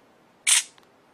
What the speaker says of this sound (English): and then press it all the way to take the photo